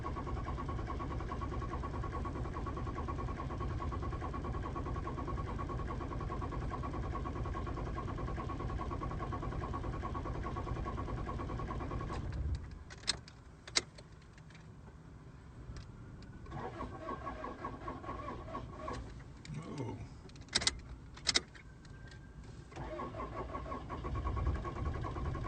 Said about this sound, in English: Kind of a weird cadence with the engine there.